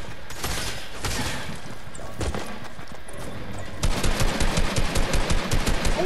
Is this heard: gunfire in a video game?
yes